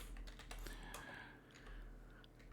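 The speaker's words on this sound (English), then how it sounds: "If I can type correctly" Quiet typing on a computer keyboard, a short burst of close, light key clicks in an irregular rhythm with brief pauses between them, and no one speaking.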